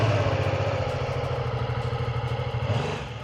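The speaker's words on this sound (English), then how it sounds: "you'll also get a bit of a hint of how this engine sounds." A BMW F 450 GS motorcycle engine idles steadily and close by, with an even low throb and a light mechanical clatter, running alone for a few seconds before easing slightly at the end.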